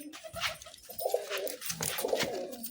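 A pigeon with a cold makes low, throaty gurgling coos in short repeated bursts, close by, over faint background noise.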